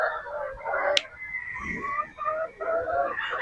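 Several fowl call and cluck together at a game farm where Boston Roundhead broodstag gamefowl are kept. Drawn-out crowing phrases sound close and fairly loud, with one sharp click near the start and no clear talk.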